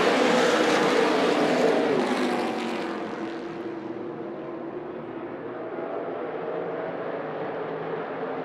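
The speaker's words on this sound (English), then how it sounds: "getting ready to go racing here with the Southwest Tour at Tucson Speedway, coming out of turn 4, looking for the flag" Southwest Tour race cars roar around Tucson Speedway, a loud, dense engine howl close at first that fades into a steadier, more distant drone as the pack moves off.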